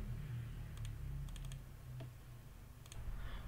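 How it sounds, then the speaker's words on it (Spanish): Keys are pressed on a computer keyboard during spreadsheet work, quiet crisp clicks in small clusters of two to four taps with a single isolated press between them, over faint room hum. "Entonces ponemos en nuestros teclados el F4"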